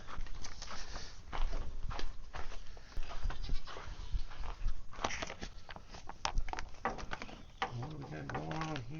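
Goats on a ranch bleat in short, repeated calls among shuffling footsteps and movement, with someone speaking over parts of it and another animal or bird sound near the end.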